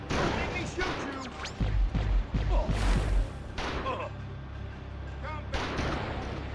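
Gunshots and booming blasts from the video game Destroy All Humans! 2, a loud cluster of heavy impacts in the middle over continuous game noise, with brief shorter shots near the end.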